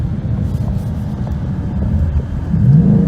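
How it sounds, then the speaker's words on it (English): A 2019 Ford Mustang Bullitt with its factory exhaust rumbles in a deep, steady low drone that swells into a louder rev near the end, heard up close with some wind noise and no talking. "The exhaust sounds amazing for a factory system."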